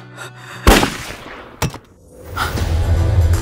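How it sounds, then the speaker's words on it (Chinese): Gunshot sound effects in an audio drama, two sharp loud bangs about a second apart, followed by a rising low rumble. "开枪吧"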